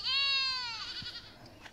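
Goats on a farm bleat in a single loud, wavering call close by, followed by faint background noise.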